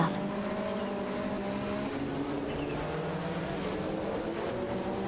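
Racing cars roar through a video game race, including a Ferrari F40 Competition and a Porsche 961 LM, their engines droning steadily and loudly with a layered hum of several cars and no pauses.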